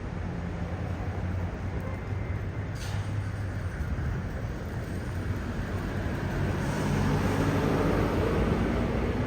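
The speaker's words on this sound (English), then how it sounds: "An Enterprise truck." An Enterprise truck drives past outside the Magic Kingdom with a low engine and tyre rumble that builds gradually and grows louder toward the end over steady background traffic.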